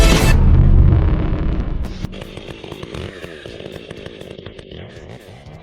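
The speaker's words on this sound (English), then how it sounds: "he holds the chainsaw firmly, cutting precisely into the trunk of an ancient tree" A chainsaw bites into the trunk of an ancient tree, first roaring loud and close, then dropping to a lower, labouring buzz with rapid pulsing as the cut goes on.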